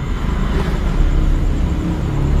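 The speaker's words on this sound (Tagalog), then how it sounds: "may marinig kayo sasakyan" Cars pass on a road just ahead of a public cemetery in Angeles, Pampanga at night, a loud, continuous low rumble of traffic with no break.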